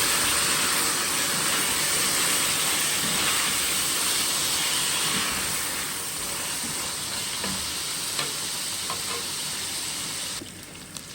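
Chicken pieces go into a pan of well-fried onions with ginger-garlic paste for a degi-style chicken yakhni pulao, setting off a steady, broad sizzle that runs the length of the clip and eases slightly toward the end.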